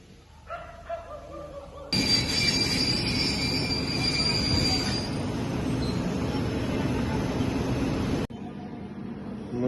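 Train wagons rolling through a railway station, steel wheels squealing and grinding loudly for several seconds; a dog barks faintly at the start before the train passes.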